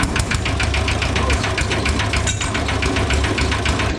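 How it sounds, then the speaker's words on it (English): A small stationary engine with a decompression lever, started to warm up before an oil change, runs steadily with a loud, close, rhythmic knocking thump throughout. "Let's just start this engine and let it run for a while just to heat up before we change the oil."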